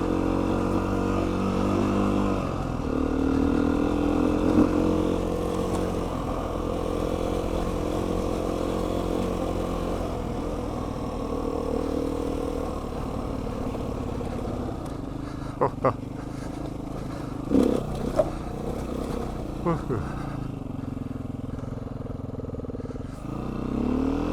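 Off-road riding on 2019 Beta dirt bikes, including a Beta 390 RR-S, with a steady engine drone, revs rising and falling, and scattered clatter from the trail; a voice talks over it.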